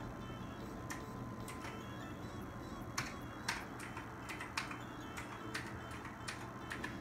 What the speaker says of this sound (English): Typing with one hand is not fun.